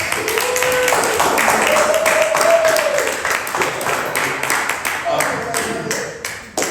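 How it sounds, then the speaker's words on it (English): Applause and clapping from a crowd at a Malcolm X birthday celebration fill the clip steadily, with tones and some talk-like sounds mixed in, fading slightly toward the end. "Yes, a round of applause."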